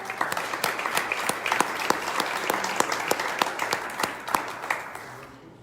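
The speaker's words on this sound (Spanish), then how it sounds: "Fuertes aplausos." A crowd gives loud, sustained applause at an awards ceremony for comic and graphic novel prizes, dense clapping with a few sharper standout claps, tapering off at the end.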